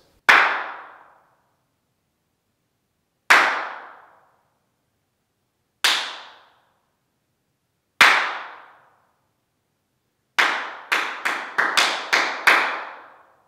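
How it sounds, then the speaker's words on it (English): Single hand claps in an untreated room being built into a recording studio, each followed by a noticeable echoing decay: four spaced claps, then a quick burst of several in a row. "let's do the clap test and let's see how really reverb-y this room is."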